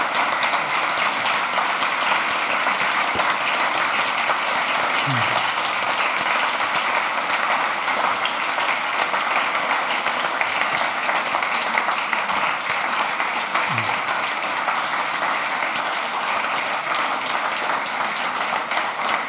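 A lecture audience applauds at the close of a German poetics lecture, with sustained, dense clapping from many hands that holds steady for the whole stretch. A few faint low thumps sound beneath it.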